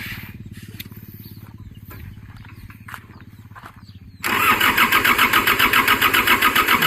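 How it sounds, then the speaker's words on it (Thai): A Kubota L2600 four-cylinder tractor engine cranks with a rapid rhythmic starter churn for several seconds, then catches and roars into a loud, steady pulsing idle up close. "ลองเลยสตาร์ทให้ดูหน่อยสตาร์ทง่ายอันนี้"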